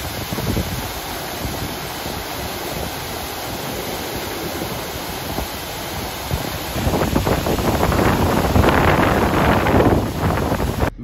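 Strong mountain wind buffets the microphone in a constant roar, gusting harder and louder toward the end, with no voices.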